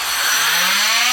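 A power saw cuts along a drywall wall toward a stud, giving a loud, continuous high-pitched buzzing whine whose tone slowly rises over a brief moment, with no talking.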